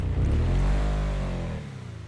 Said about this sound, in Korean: 무슨 할머니들 탈 것 같은 차에서 이 정도의 중후한 사운드를?